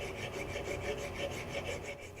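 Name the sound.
filing the bearing mount surface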